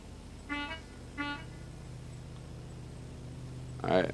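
Two short car horn honks from a racing game, evenly spaced and fairly loud, followed by a voice speaking over a low engine drone.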